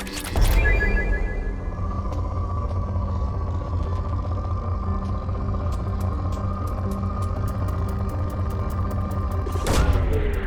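A planetary probe launches in Mass Effect 2 with a sharp burst at the start, then a long, steady mechanical drone that holds for several seconds before a second burst near the end.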